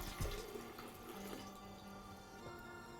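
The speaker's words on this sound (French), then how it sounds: "Donc le demi-litre d'eau." Half a litre of water poured into a blender jug for mint syrup, a faint continuous splashing trickle with gurgling pitch changes, close and without talking.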